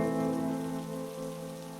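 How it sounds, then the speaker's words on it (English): Steady rain falling on a surface, a continuous soft patter with no voices. "it began to rain."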